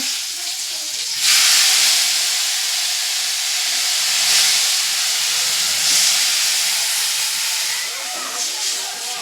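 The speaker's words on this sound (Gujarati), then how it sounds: "હવે કઢીનો વઘાર મારવાનો છે" A sudden loud sizzle bursts out and keeps hissing steadily, with brief surges, as hot oil tempered with asafoetida and curry leaves hits kadhi.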